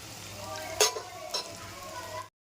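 Potato balls coated in rice flour sizzle and crackle in hot oil, with two brief louder scrapes as they are stirred in the pan; no talk is heard.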